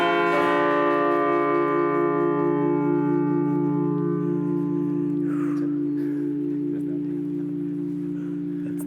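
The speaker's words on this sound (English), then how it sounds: "The church bell rings." A church bell rings with a long, sustained resonant tone that hums steadily throughout, loud and close, with faint background noise drifting in toward the end.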